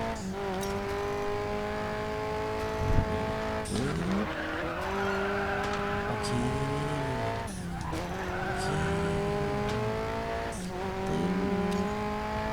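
A Citroen Xsara WRC in the Racing Master video game drives hard, its engine note rising and falling through gear changes while tires squeal and skid through corners, loud and continuous with no talk.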